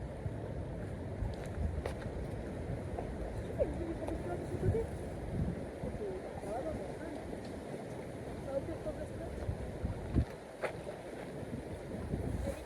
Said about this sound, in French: il y a beaucoup de vent. Vraiment, ça fait des vagues dans l'eau.